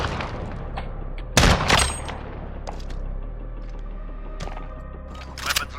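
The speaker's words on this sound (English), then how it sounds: "I'm taking fire!" Gunfire in Call of Duty Modern Warfare, a couple of loud sharp shots early on, then scattered fainter pops over a steady game background.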